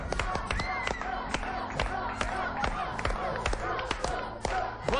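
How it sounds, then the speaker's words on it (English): A lively crowd cheers and shouts continuously during a team race on a 1989 television show, with sharp claps and thuds scattered throughout, loud and close. "on, you guys, cheer it on."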